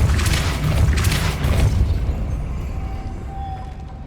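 A Depulso spell cast in Hogwarts Legacy sets off a loud, broad rumbling boom that swells for about two seconds and then fades into a lingering low tail with a faint tone.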